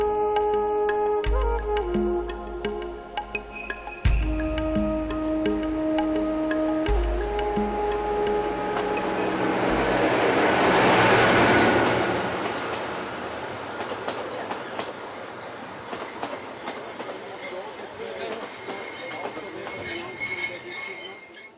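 A train climbs a Himalayan mountain railway with steady clickety-clack and rumbling wheels, a bright squeal of wheels on a curve swelling and fading in the middle, and rattling carriages throughout.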